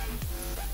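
Inside an Iveco Evadys bus in Euro Truck Simulator 2, the front window slides open with a short mechanical whir and sweeping motor tone over a steady low engine hum.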